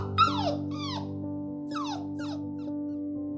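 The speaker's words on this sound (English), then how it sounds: "A dog's whine was heard." A dog whines in a string of high, falling squeaky whimpers, two pairs of cries with a pause between, over a steady low hum.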